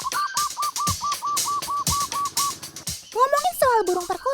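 A zebra dove (perkutut) sings a steady run of evenly spaced, clear tonal coos, then breaks into a brighter cluster of sliding, warbling notes near the end, fairly close and loud.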